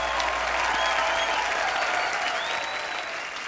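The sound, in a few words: audience applause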